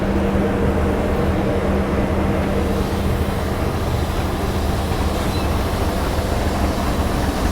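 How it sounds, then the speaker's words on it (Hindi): A running generator car on the Rajdhani Express to Mizoram, a loud, steady diesel drone with a constant low hum, unchanging throughout and with no talk. "जनरेटर कार चालू है क्योंकि HOG कनेक्टेड नहीं है"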